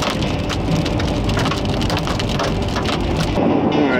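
Heavy rain and hail drum steadily and loudly on a car during a supercell storm in Kirk, Colorado, a dense continuous roar with scattered sharper impacts throughout.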